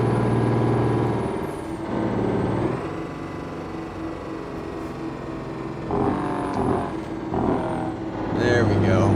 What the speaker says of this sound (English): The Jake brakes sound pretty cool in this thing actually.